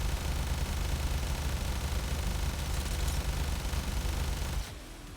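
Heavy rapid-fire gunfire from a Mausolon in the game Warframe roars as one dense, unbroken burst, loud and close, then cuts off abruptly just before the end.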